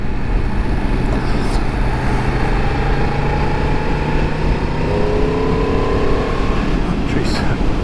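A 2022 Yamaha MT-10 motorcycle engine under way, a loud continuous droning roar with rising tonal pitch sweeps as it accelerates, wind rush constant throughout and heard up close.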